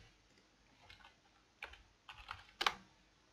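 Private message typed on a computer keyboard during an online game session: a few soft, scattered key clicks in short bursts, quiet and close, with one sharper clack near the end.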